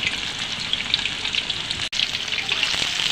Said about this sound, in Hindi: लो फ्राई में आराम से फ्राई करा तो अच्छा रहेगा फ्राई फ्राई करेंगे